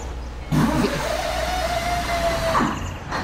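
A large dump truck diesel engine cranks and catches, then revs with a rising, rumbling growl before settling, heard up close with no talking.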